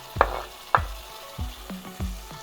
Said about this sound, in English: Now we're gonna add chopped tomato in there